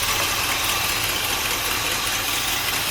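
A 1964 Cadillac engine idles a little low, giving a steady, close rumble with an even mechanical churn and no voices.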